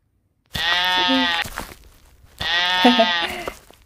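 A sheep in the Avatar World game gives two loud, drawn-out bleats, each about a second long and separated by a short pause, close and clear with nothing else heard.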